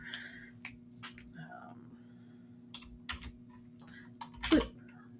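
A computer keyboard being typed on up close: soft, scattered key clicks in short irregular bursts over a low steady electrical hum, quiet overall, with talk.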